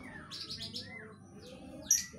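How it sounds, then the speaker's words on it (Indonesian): A male white-rumped shama (murai batu) of Bahorok lineage sings a run of bright, varied whistled phrases and quick chirps, fairly near and clear, with no talk over it. "ingin merawat murai batu ini silahkan"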